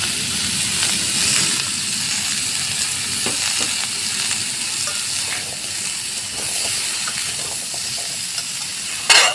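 Slit green chillies sizzle and fry steadily in hot oil in a pan for prawn curry, a continuous crackling hiss with faint stirring scrapes throughout.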